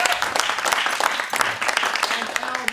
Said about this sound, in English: A round of applause for Al Savage.